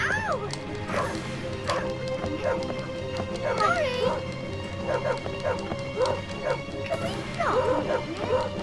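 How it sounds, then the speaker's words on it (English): Dogs bark, yip and whimper in a chase scene of the Chicken Run video game on PS1, repeated barks over busy game music and crashing effects, with a person talking over the top. "Those dogs can sure as hell run fast."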